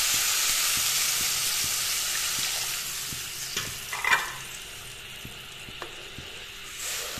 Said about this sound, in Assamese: এতিয়া ইয়াত মই পানী দি দিলোঁ প্ৰথমতে